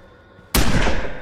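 Firecrackers in the video game State of Decay burst suddenly after a quiet moment, a loud sharp crackling blast with a short rough tail.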